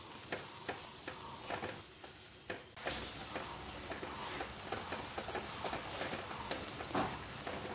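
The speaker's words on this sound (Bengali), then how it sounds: "এইভাবে আস্তে আস্তে নেড়ে নেড়ে পুরো জলটা শুকিয়ে নিতে হবে।" Ground pumpkin flower paste with salt and turmeric being stirred in a pan, with soft scrapes and taps repeating at an irregular pace over a faint sizzle as the water cooks off, quiet and close, with no talking.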